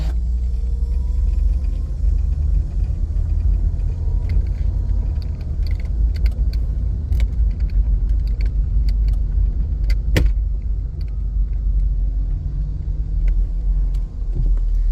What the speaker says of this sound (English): let's go ahead and pop this thing and drive real quick. Take it on a little drive.